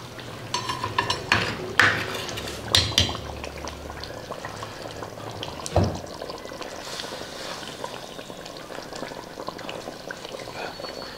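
A chatti of pamullan boils and is shaken, giving a low bubbling, liquid churn with several sharp knocks and rattles from the pot, the loudest in the first half, then softer simmering.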